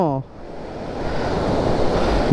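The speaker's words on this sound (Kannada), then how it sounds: "ಏನು ಇಷ್ಟು ಫೋರ್ಸ್ ಐತೆ ನೀರು." Forceful rushing water at a scenic hill spot near Sakleshpura, a loud broadband roar close to the microphone with wind buffeting, after a brief voice at the very start.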